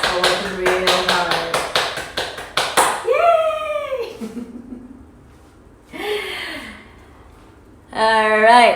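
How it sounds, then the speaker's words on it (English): A small yoga class gives itself a quick round of applause, a dozen or so sharp, evenly spaced claps over about three seconds, followed by sighs and talk. "Give yourself a nice round of applause for working real hard"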